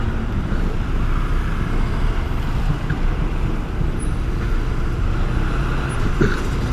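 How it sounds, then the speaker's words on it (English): Dense road traffic on a busy Bangkok street forms a constant loud rumble of cars, buses and trucks, with occasional hisses of air brakes close by. "Sorry, there's major traffic here."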